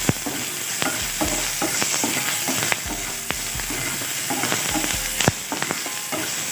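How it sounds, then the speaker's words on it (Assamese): Onions and green chilies sizzle steadily in a hot pan while a utensil stirs them, with sharp scraping clinks against the pan at irregular intervals and no talking. "আৰু এতিয়া পিঁয়াজ আৰু জলকীয়া দি লৈছোঁ। আৰু এইখিনি কিছু সময় আমি ফ্ৰাই কৰি ল'ম।"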